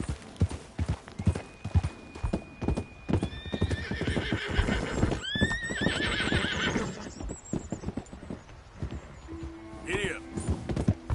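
Horse galloping in Red Dead Redemption 2, with rapid hoofbeats throughout, a loud whinny near the middle and snorts, under intermittent spoken words.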